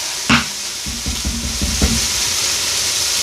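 Ground meat for hamburger soup sizzling in an Instant Pot while tomato paste is spooned in, a steady close hiss with a few soft stirring knocks and scrapes.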